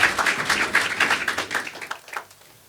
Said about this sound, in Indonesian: Boleh kasih tepuk tangan buat tim praise and worship kita.